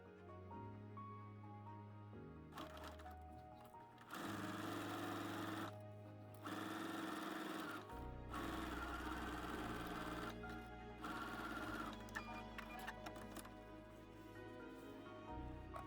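A sewing machine stitches the side seam of a doll's skirt in several bursts of rapid mechanical whirring, with short pauses between them, at close range and without speech.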